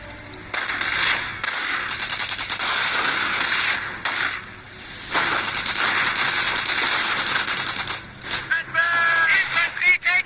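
Dense, rapid gunfire and crackling bursts from a Company of Heroes battle, hitting infantry as they come under fire, loud and near, with short pauses and brief voice-like chatter near the end.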